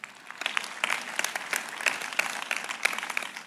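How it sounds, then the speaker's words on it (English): A church congregation claps during a sermon, a moderately loud patter of individual hand claps with distinct sharp strikes, uneven and lively, with no talk over it. "Clap for him."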